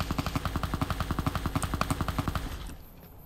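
Rapid automatic gunfire from the video game Fallout New Vegas rattles in an even burst of about two dozen shots, then stops abruptly, leaving a quiet tail.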